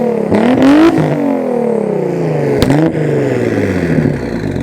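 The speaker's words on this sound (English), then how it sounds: "this is basically like a full straight pipe" A twin-turbo Nissan 300ZX with a full straight-pipe exhaust revs loudly up close, its pitch climbing, dropping, then blipping again before settling into a rough, rumbling idle; no talking.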